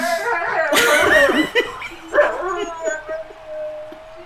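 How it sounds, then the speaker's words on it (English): Several sled dogs yip, whine and howl close by in short overlapping bursts, with a brief laugh mixed in among the excited vocalizing. "Folks, if you don't know anything about sled dogs, they're very vocal."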